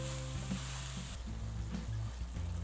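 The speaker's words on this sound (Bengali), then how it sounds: "এটা অনবরত নাড়তে হবে" Sweetened chhana cooks in a frying pan while being stirred continuously, a close, steady sizzle broken by rhythmic scrapes and knocks of the spoon against the pan.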